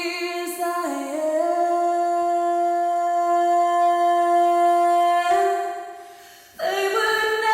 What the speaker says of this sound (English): We actually have this immediate build up that is extremely metallic, quite bouncy and zippy